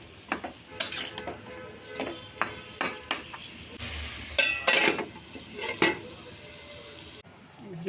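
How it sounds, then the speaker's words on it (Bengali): Vegetables stirred and fried with curry masala in a pan, heard as a series of sharp metallic clinks and scrapes of a spatula against the pan over a soft sizzle, up close and irregularly spaced. "ভালো করে তরকারি মশলাটা সবজির গায়ের সাথে মিশিয়ে তারপরে কিছুক্ষণ ডেকে দিয়ে কষিয়ে নেব।"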